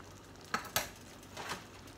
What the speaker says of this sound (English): Throw my angel hair noodles in.